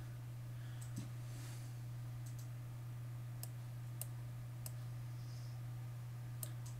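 Keys on a computer keyboard tapped in a few scattered, isolated clicks over a steady electrical hum, with no talk.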